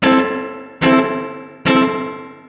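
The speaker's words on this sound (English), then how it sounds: "your reverb is going to be very muffled" Three plucked electric guitar chords ring out one after another through a Line 6 Helix spring reverb with the high cut turned all the way down, each decaying into a dark, muffled reverb tail with the highs rolled off.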